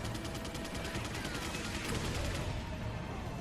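Rapid gunfire crackles in a continuous dense burst during Resident Evil 4 gameplay, loud and steady throughout with a slight surge near the end, no voices over it.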